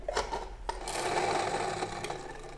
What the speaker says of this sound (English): Put it into the grinder.